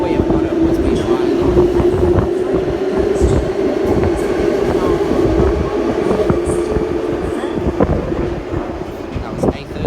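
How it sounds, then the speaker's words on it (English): A Sydney train on the Hornsby–Ryde service pulls away from platform 3 at Epping with a loud, continuous rumble of wheels and motors and a steady hum, close and sustained throughout. "departing platform number 3, we have got a Hornsby Ryde"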